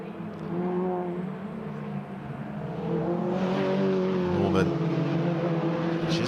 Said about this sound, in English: trying to chase down Adrian Norman as the pair of them negotiate the first turn. Hurtle towards the Dean hairpin